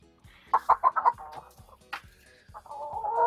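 Hens cluck in a homemade henhouse, a quick run of four or five close, loud clucks followed by scattered softer calls and a drawn-out cackle at the end, with no talk.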